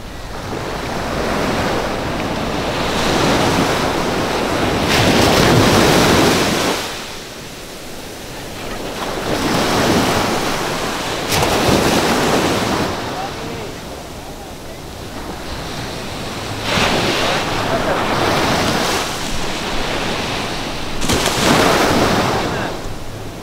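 Ocean waves surge and break at Sayulita Beach in Mexico three days after Hurricane Roslyn, a loud roar that rises and falls in repeated swells with wind buffeting the microphone.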